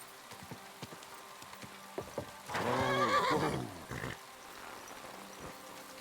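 A horse in Kingdom Come: Deliverance II gives a single clear whinny of about a second and a half, loud against a soft backdrop of rain and scattered hoof clops.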